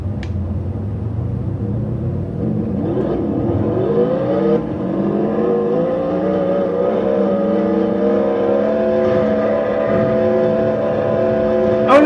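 A racing car engine in the video game TORCS, a loud continuous whine that climbs and shifts pitch through gear changes, close and sustained.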